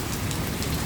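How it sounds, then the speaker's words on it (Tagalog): Heavy rain pours steadily during a storm in Bavaria, a dense, even hiss with no pauses or voices. "sagol ang ulan tara"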